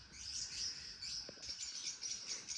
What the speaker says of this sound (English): Clearly someone's homing their birds in the flat next door